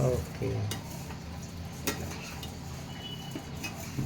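A large batch of sweet vermicelli is stirred fast in a pan, with a steady sizzle under quick metal scrapes and occasional sharp spoon clicks against the pan, close and continuous.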